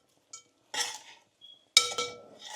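A spoon clinking and scraping against a pan as poha with potatoes and peanuts is stirred, with a few separate metallic clinks and scrapes, close and fairly quiet, set among short silences.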